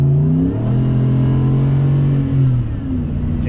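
A Ford F150 pickup with a Flowmaster Super 44 muffler rumbles up close with a deep, throaty exhaust note, revving up and settling back several times over a steady low idle, loud with no talk.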